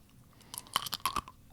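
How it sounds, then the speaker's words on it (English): Nails being chewed in a kitchen setting, giving a short burst of hard, crunchy bites and grinding clicks close to the mic. It lasts about a second over a faint background. "So instantly, I'm having a lot of difficulty chewing them"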